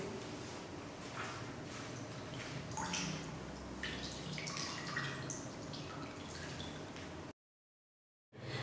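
Water drips and trickles steadily as a caffeine sauna suit is gently pressed from top to bottom, a soft continuous wet patter at close range that stops abruptly near the end before briefly resuming.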